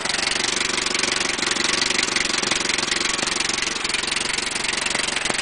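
A Ford 8N tractor engine idles close by, a loud, steady mid-pitched chugging with an even firing rhythm throughout, no voices.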